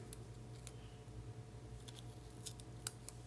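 Backing paper is peeled off adhesive foam for a handmade card, giving brief faint crinkles and a light snap close by in a quiet room.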